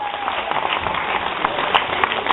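A concert audience bursts into dense, steady applause, many hands clapping at once in a continuous wash of sound, moderately loud and without voices.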